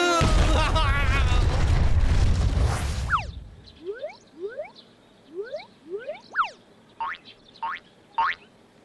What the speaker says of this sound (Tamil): வெடி குண்டு